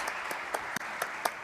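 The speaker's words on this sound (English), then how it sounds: "Let's give them all a big round of applause, please." Scattered applause from a conference audience at the Madrid Platform business forum, a handful of distinct claps spaced out over a quiet background, sparse and moderately close.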